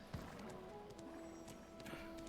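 Horse hooves clip-clop steadily in Black Desert Online, a quiet, even trot running under a low game ambience with a faint whinny-like tone mixed in.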